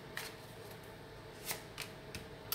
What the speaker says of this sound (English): Last shuffle, and I'm going to show you.